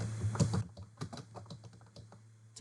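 Someone types a name on a computer keyboard, a quick run of close, crisp key clicks in an uneven rhythm over a low steady hum, with no talking.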